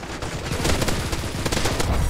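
Rapid submachine gun fire in a first-person shooter video game, a dense loud burst of automatic shots lasting a couple of seconds with no talking.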